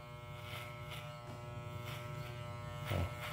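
An electric hair clipper with a guard comb buzzes steadily and close up while cutting a mohawk, its hum holding even with slight changes in load as it moves through hair.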